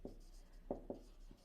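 Chalk or marker scratches out a few short strokes on a board during a class 10 geometry lesson on circles, faint and close, about four quick taps and scrapes.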